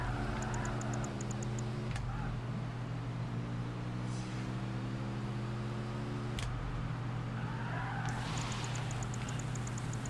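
A Ford Focus RS Cosworth races in the Project Gotham Racing video game, its engine a steady, close, droning hum with a few faint ticking clicks throughout.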